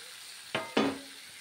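Chicken pieces drop into a pan of cooked-down spice paste with two quick, close splats, followed by a brief sizzle that fades into quiet kitchen background.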